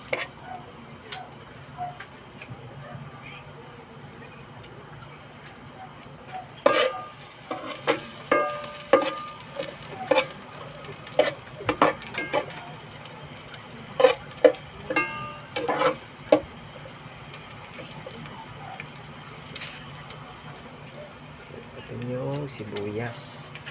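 Garlic dropped into hot oil for a sardine sotanghon sautés with a soft steady sizzle, broken by clattering spatula stirs and clinks against the pan, while a person talks intermittently.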